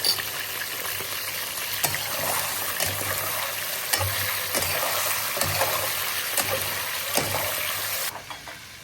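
Chicken dropped into hot ghee in a karahi, sizzling and frying loudly with a steady crackling hiss while a utensil scrapes and stirs at a regular rhythm, the sizzle easing off at the end.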